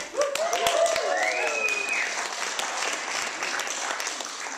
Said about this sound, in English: how about a giant cheer?